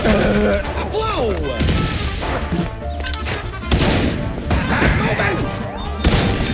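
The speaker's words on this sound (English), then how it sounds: "Boy, this gunfight." Gunfire crackles through a chaotic gunfight in the PC game Mouse: P.I. For Hire, with loud bursts, crashes and booms piling up over steady game music and effects, alongside occasional voice lines.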